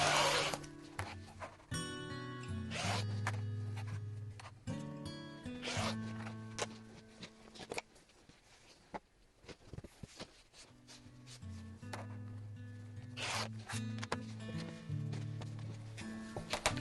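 Stacked fabric prints for a quilt being cut with a rotary cutter along a ruler: several close, scraping rolling strokes separated by short pauses, with faint handling of fabric in between and no talking.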